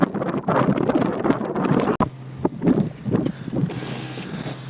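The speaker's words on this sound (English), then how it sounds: "it's so windy in this canyon" Strong wind buffeting the microphone in Jumbo Canyon in the Slumbering Hills of Nevada, a loud continuous roar in gusts with one brief dropout partway through, no talk.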